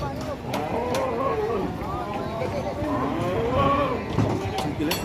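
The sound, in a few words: cow mooing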